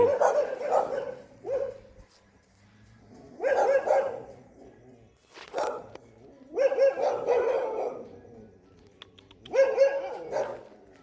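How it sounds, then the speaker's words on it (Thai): A dog barks in loud, close bursts, several clustered barks repeated at intervals with short pauses between, near a machine being shown indoors. "มาก็เห่าจังเลยนะครับ"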